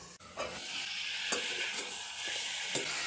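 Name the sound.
chicken frying in a covered pan on low flame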